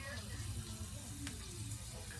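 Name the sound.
green beans frying in hot oil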